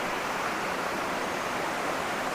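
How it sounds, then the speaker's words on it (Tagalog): Water pours steadily over the low lower tier of Maticdum Busay waterfall in Tandag City, Surigao del Sur, making a dense, even rushing roar close by with no voices. "So pero ito yung waterfalls dito banda, mababa lang siya"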